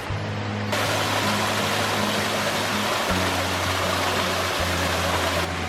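A loud, continuous rush of falling water from a waterfall in Dartmoor National Park, England, dense and close, with a low hum running steadily underneath.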